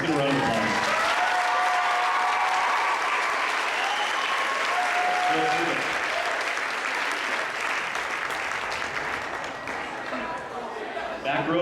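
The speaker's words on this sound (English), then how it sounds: "Parents, let's get a round of applause." Parents in a school auditorium give long, loud applause at a junior high honor choir festival, a thick wash of clapping that holds steady and thins slightly near the end, with a few voices mixed in.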